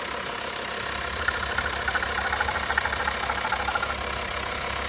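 Volkswagen Transporter 1.9 TDI four-cylinder diesel idling with a steady, even low rumble and a light rhythmic knock, close by and alone with no talk over it.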